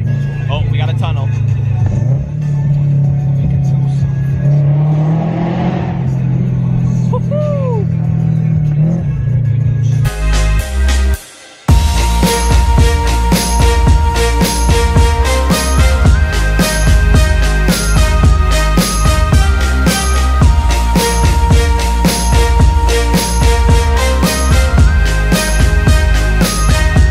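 A Nissan 370Z's engine drones low and steady from inside the car in a tunnel, under people talking, before loud music takes over and largely masks it.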